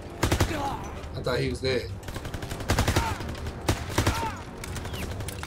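Rapid bursts of automatic gunfire and single shots from the Call of Duty WWII campaign, loud and repeated throughout with brief pauses, while someone talks over the shooting.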